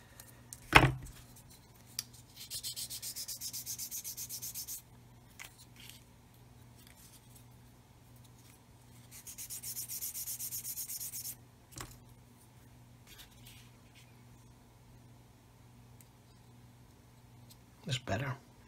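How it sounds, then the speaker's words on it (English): Two stretches of rasping, scratchy sanding strokes on a 1/35 scale plastic model kit of a 9K37M1 Buk missile launcher, a few seconds each, separated by quiet handling sounds and occasional clicks. "sand it a bit more"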